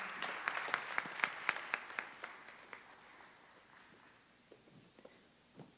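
A burst of audience applause after a presentation, a dozen or so sharp claps early on that thin out and fade to scattered, softer claps.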